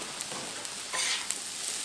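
Shrimp stir fry with rice hisses on a Blackstone griddle as it is mixed, a dense steady sizzle with soft scraping strokes from the spatula.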